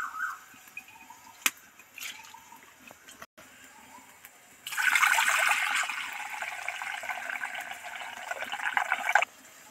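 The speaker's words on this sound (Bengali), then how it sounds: "উষ্ণ গরম জলে তো একবার ধুয়ে নিলাম" Biulir dal lentils are washed in warm water, with a few faint clinks first and then a loud, steady, close rush of pouring and sloshing water for several seconds.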